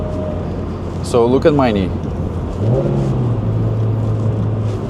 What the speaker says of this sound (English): Now I'm gonna do a rev matching here.